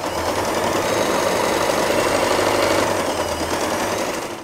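A sewing machine runs steadily while stitching fabric for a scrunchie, a fast, even mechanical whirr and clatter heard close up, slowing at the very end, with no talking.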